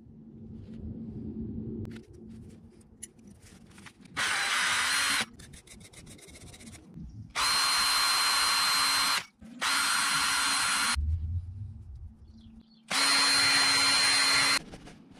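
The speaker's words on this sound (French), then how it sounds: "Donc je vais poncer, polir, finir au bel gomme." A power tool sands and polishes car door hinges from an Acoma Super Comtesse, running in several loud bursts of steady high whine with pauses and quieter handling noises between them.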